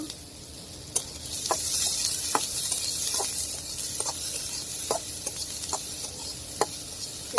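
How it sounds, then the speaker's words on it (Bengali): Green chilies and onion fry in mustard oil for a garlic bharta, a continuous close sizzle with scattered sharp pops and the scrape of stirring. "এখন মরিচ ভেজে নিব তেল দিব আর একটু পেঁয়াজটা ভেজে নিব"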